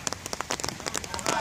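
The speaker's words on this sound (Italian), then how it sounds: "Le previsioni lo dicevano, infatti ora inizia il diluvio." Heavy rain pours down on a football pitch as a dense, steady hiss of countless drops with a loud crackling patter throughout.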